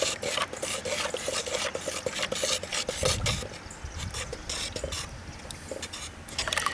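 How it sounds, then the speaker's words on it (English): Sieved pottery glaze stirred in a bucket, a busy rasping, sloshing scrape of tool against the sides that continues throughout at close range, with no talking. "So let's just give this a stir."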